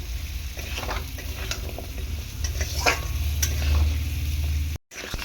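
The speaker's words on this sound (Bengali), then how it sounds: "আলুগুলো দিয়ে আমি দু তিন মিনিট একটু হালকা করে নাড়াচাড়া করে নেব" Potato pieces frying in spiced oil for a pumpkin and potato curry with Malabar spinach, stirred gently in the pan with a steady loud sizzle and soft scraping, close, with no talking, briefly cut off near the end.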